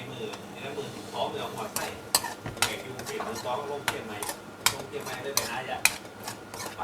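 Frog and bird red curry is stir-fried until the liquid dries off, with a metal spatula scraping and clanking repeatedly against the pan amid a light sizzle.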